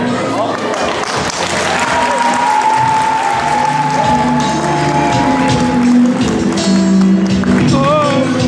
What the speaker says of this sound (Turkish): Alkışımız geldi